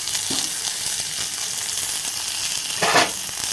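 A finely chopped large onion hits hot oil in a pan for onion theeyal, giving a steady close sizzle that swells into a louder burst near the end, with no voices.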